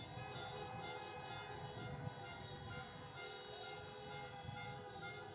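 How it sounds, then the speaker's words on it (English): Car horns honking at a drive-in political rally in Falcon Heights, Minnesota, a dense steady blare of many overlapping horns sounding continuously, moderately distant, with no clear talking. "Honk your horn if you want to have civility again."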